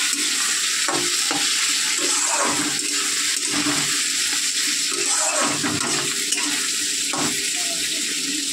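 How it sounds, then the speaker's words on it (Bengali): Potatoes frying in a home kitchen pan make a steady, dense sizzle throughout, loud and continuous with faint stirring scrapes, no talk over it. "দেখো এখানে ডিম সেদ্ধ বসে গেছে, এখানে আলু ভাজা।"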